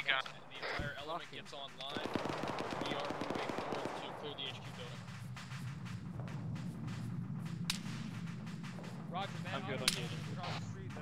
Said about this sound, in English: marksman out to the north is firing at us. Just shot off a burst